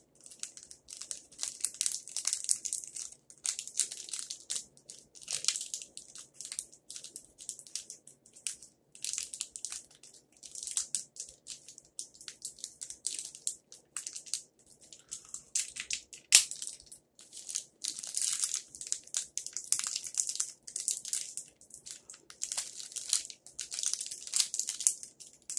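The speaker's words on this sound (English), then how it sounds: "Yeah, this is really hard to get open." Someone struggles to open a Japanese candy package bag, producing a long run of close, crisp plastic crinkling and crunching in uneven bursts with short gaps.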